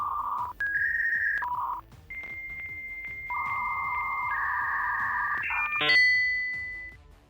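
Dial-up modem connection tones from a Unity-made Terminator kit app: a run of steady beeping tones and warbling handshake sounds, loud and alone, ending in a sharp burst of noise before a fading tone.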